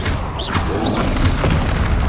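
Confringo spell from the Hogwarts Legacy video game firing off as an explosion, a dense, booming blast with rumbling crash that fills the whole short moment, loud and close amid other game effects.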